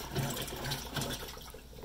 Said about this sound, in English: Now that it's got it balanced, it's doing the hard agitation cycle.